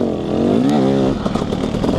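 A 2018 KTM 250SX two-stroke dirt bike fitted with an FMF Powercore 2 exhaust rides on a trail, its engine revving up and down with a buzzy, rising and falling pitch and some clattering near the end.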